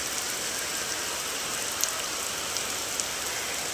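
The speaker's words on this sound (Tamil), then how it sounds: "எவ்வளோ மழை பெய்யுது பாருங்கள்" Heavy rain falls steadily in a village, a dense, loud hiss of drops striking surfaces that continues unbroken, with a few faint ticks heard through it and no one speaking.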